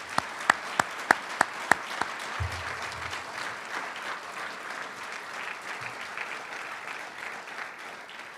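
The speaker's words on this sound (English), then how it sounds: "I would like us all to thank with a round of applause the faculty that worked with our scholars on their thesis research" An audience at a university medals ceremony applauds the faculty supervisors, opening with several sharp, distinct claps that swell into steady, even applause across the hall.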